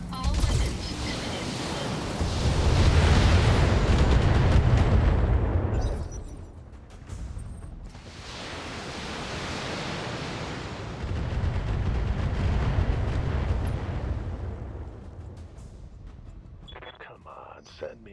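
A BattleTech mech unloading all its weapons in two long, heavy barrages of roaring, rumbling blasts, each swelling and fading over several seconds, followed by quieter clanks.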